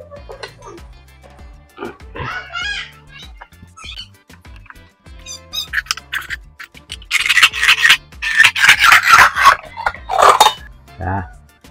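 Metal scraping and rasping as a metal piece is cut to make a spark-plug TDC timing tool, starting with sparse scrapes and clicks, then building into a loud, dense run of sawing strokes near the end.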